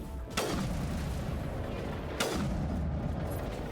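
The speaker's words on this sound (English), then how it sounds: "Sniper rifle." Two heavy sniper rifle shots boom in the Mass Effect game, spaced about two seconds apart, each a sharp loud crack with a long rolling decay over a rumbling battlefield background.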